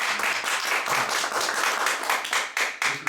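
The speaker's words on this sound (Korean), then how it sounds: "박수 한번 주세요." An audience at a church gospel-recitation gathering claps loudly in an even, rhythmic patter for a few seconds, close and clear with no talk over it.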